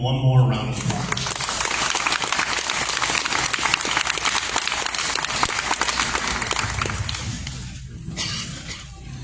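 Sustained audience applause for candidates at a 2025 candidate forum for Liberty Hill school board and city offices, dense clapping filling the room for most of the clip before thinning out near the end.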